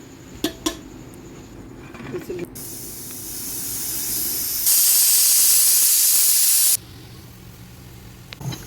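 A pressure cooker of kappa (tapioca) biryani hisses steam, building from a soft hiss into a loud, steady jet for about two seconds before cutting off abruptly, with light clinks of kitchen utensils before and after.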